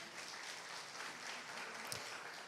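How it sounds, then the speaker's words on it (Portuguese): Quiet, even applause from a church congregation, a soft wash of distant clapping that holds steady for a couple of seconds. "Diga amém e aplauda essa palavra."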